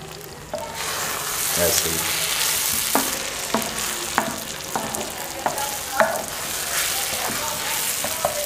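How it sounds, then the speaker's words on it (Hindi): Egg and okra frying together on a tawa, village style, as they are flipped and stirred: a continuous loud sizzle broken by repeated sharp spatula clacks, with a brief spoken word. "अंडे को भी पलट लेंगे, और इसको भी भिंडी के अंदर मिक्स कर देंगे अंडे को"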